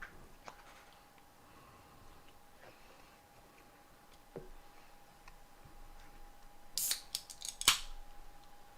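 A deck of Magic cards is shuffled at a tabletop Commander game: scattered soft ticks and clicks, then a couple of short, sharp riffling bursts near the end, faint and close with no talking.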